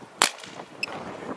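A Dye DAM paintball marker fires a single First Strike round through a chronograph, one sharp crack near the start followed by a brief faint mechanical click, with no talking.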